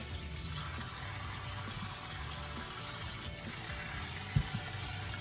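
A tap runs into a sink while a wig is being washed, a quiet, steady stream of water with a brief soft knock near the end.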